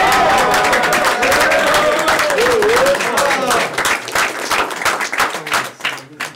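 An audience at a French rap battle applauds and cheers in a loud burst of clapping that thins out toward the end, with a voice heard over the crowd.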